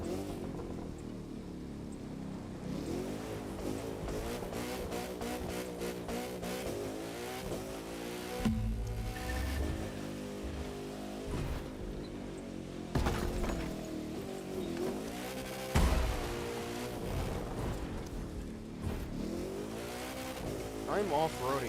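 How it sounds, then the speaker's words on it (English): An expensive supercar in The Crew 2 racing game roars off-road with a continuous revving engine that rises and falls through gear changes, with occasional thuds and bumps, alongside a speaking voice. "I'm off-roading a very expensive supercar right now."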